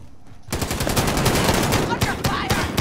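Rapid automatic gunfire in a Call of Duty Resurgence quads match, a dense run of loud close bursts that starts abruptly after a quiet moment and carries on steadily with brief pauses.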